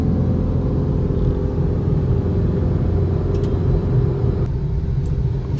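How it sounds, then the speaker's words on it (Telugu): Dense road traffic is heard from inside a moving vehicle as a constant, loud low rumble and engine drone with no pauses, joined by a few faint higher clicks near the end. "Full traffic."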